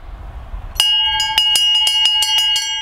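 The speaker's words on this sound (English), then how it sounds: "I'm going to get Neil to ring the bell." A bell rung at the end of the 12th hole at Hayle Golf course sounds in a rapid series of about nine bright metallic strikes, each ringing on with sustained tones, close and loud after faint outdoor background.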